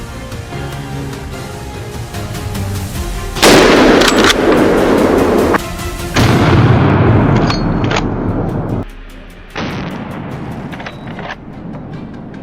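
A hunter's gun fires repeatedly at wild boar on a hillside above a farming village. Loud, rapid shots crack close by in dense volleys, with brief pauses and a short lull between bursts.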